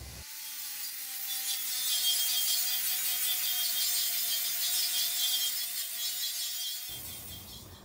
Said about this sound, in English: this is where I've ground all the mill scale off